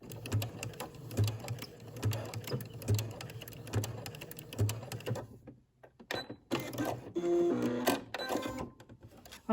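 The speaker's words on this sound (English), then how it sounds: "now we need to sew around the edge of the pocket" A sewing machine stitches a maxi dress seam and pocket edge in quick rapid bursts of mechanical clatter, close up. It pauses, then restarts with a short whirring run.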